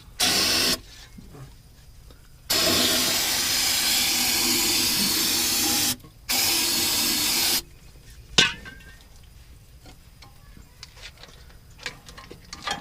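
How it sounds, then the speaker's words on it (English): An aerosol can of starting fluid sprays in two long hissing bursts onto the oil pan of an International 4700 truck, loud and close, separated by quiet pauses, followed by light clicking and handling noises. "just spray with this starting fluid here"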